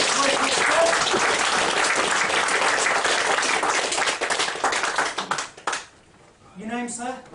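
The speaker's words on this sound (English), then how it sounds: "Give this gentleman a round of applause." Audience applause at a live comedy mind-reading show: loud, dense clapping from a crowd for about five seconds, thinning into scattered claps before someone speaks.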